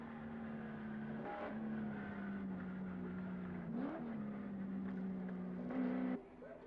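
A touring race car at the 1986 Bathurst 1000 gives off a faint, steady engine drone, its pitch dipping and rising again at a few gear changes.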